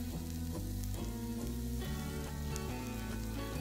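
Homemade tomato paste sizzling loudly in hot roasted flour in a pan while being stirred, a steady crackling fry with no talking.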